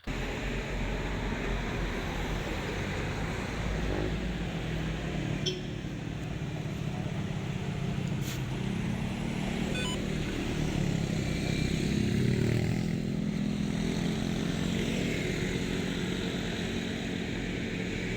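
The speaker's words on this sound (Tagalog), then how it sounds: "Dami pa rin sasakyan eh. Main road kasi yan Luwakan eh." Traffic on a busy main road in Manila rumbles as a continuous low drone of engines, with vehicles passing at a distance and no clear break, fairly faint and unbroken throughout.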